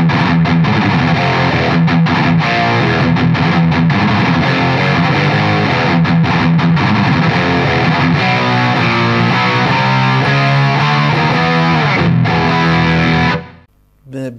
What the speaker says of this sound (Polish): Brzmienie przesterowane i kanał przesterowany to jest przede wszystkim charakterystyka, bym powiedział, no raczej brytyjska, czyli kierunek plexi